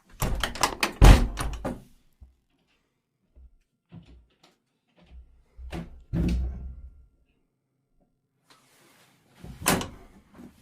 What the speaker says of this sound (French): Ferme la porte, je vais le chercher.